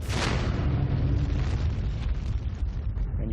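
A supernova explosion sound effect in a space documentary: a loud, deep, continuous roaring rumble that opens with a burst and then churns without a break.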